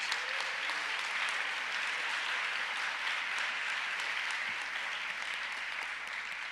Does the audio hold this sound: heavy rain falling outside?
no